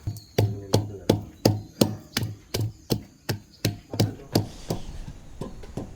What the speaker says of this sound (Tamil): முதல்ல நம்ம பூண்டை இடிச்சுக்கிறோம்